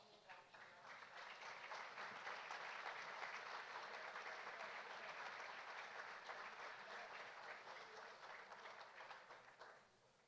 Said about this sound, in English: these people deserve a huge round of applause